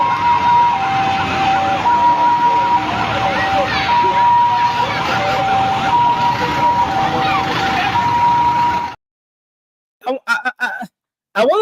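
Wailing two-tone sirens from newly arrived fire trucks of the Liberian National Fire Service, loud and continuous for about nine seconds amid crowd noise and voices, then cutting off abruptly to brief speech.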